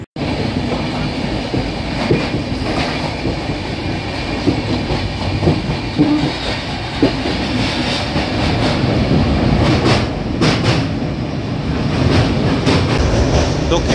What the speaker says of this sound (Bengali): এই যে দমদম জাংশন ক্রস করছে আমাদের ট্রেন